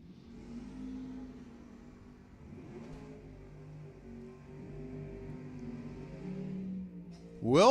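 Drag racing cars, a Camaro and a Le Mans, at Lebanon Valley Dragway, with a steady distant engine drone building over several seconds, then a loud rising rev at the very end.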